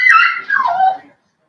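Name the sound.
small dog whimpering to go out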